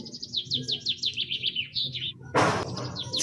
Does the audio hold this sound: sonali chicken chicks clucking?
no